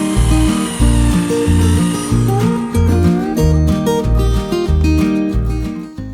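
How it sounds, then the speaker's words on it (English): A Forstner bit bores a circle into wood with a loud, pulsing mechanical drone that rises and falls in regular bursts, its pitch shifting partway through, with no talk over it. "Let's begin by drilling the circle with the Forstner bit."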